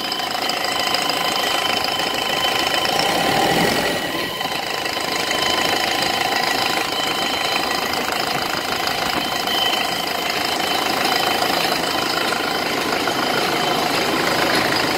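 A Cummins 4BT diesel engine, pre-wired with a throttle pedal, idles steadily with a continuous knocking clatter and vibration, loud and close, with a brief dip partway through.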